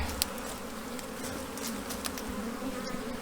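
A honey bee colony buzzes steadily and up close during a hive inspection two weeks after a swarm, a dense, continuous drone with no one speaking.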